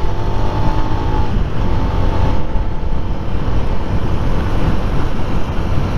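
Motorcycle leaning through a corner on a town road, its engine a steady loud drone heavily mixed with gusting wind buffeting the microphone, continuous from start to finish without speech.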